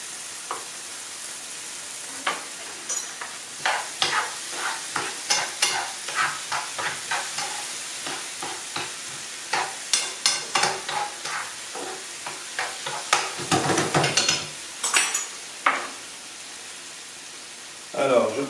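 Small sliced pieces of chorizo sizzle in a pan while a utensil stirs them, giving repeated scraping, frying bursts in an uneven rhythm, close and fairly loud.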